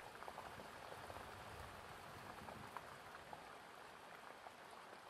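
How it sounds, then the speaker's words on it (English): Steady rain falls on trees and a wooden jetty, a dense, continuous hiss of drops that stays even and close throughout with no voices. "still drowned out by the sound of the rain and the trees"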